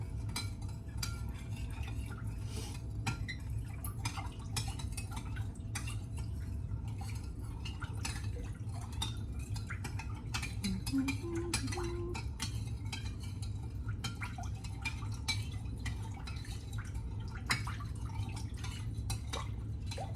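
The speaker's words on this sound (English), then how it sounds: "I'm going to stir it for a little bit longer just because I want to try to make sure that the sugar is nice and mixed in" Sugar is stirred into water in a container, a soft continuous scraping and swishing with light liquid movement, quiet and steady with no talking.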